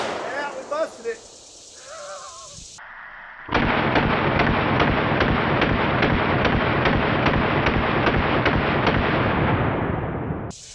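Full-auto gunfire blasting at padlocks, a long continuous burst of rapid, loud, close shots after a few seconds of brief talk.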